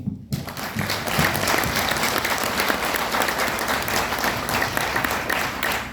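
An audience at an RCM business meeting breaks into dense, sustained applause that starts abruptly and holds at a steady level, with a brief voice at the very start.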